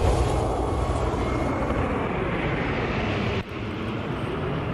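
Air Force Thunderbirds jets fly over Allegiant Stadium before Super Bowl LVIII kickoff, heard as a loud, broad, continuous roar that holds steady and dips slightly near the end.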